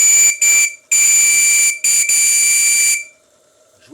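Shrill steam whistle on a live steam model tug, the Abeille 13, blown in several close bursts: two short toots, then a long sustained blast with a brief break, ending in a faint hiss.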